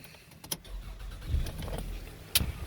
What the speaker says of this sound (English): And I'll actually start the car to show you.